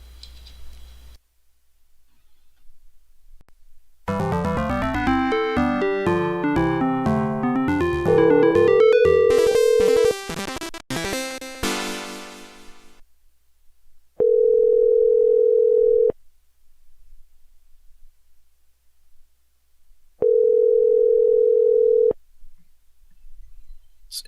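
A phone call ringing out and forwarded to voicemail: a rapid series of electronic dialing tones and chirps, then a steady beep, followed after pauses by two more identical sustained beeps, loud and isolated.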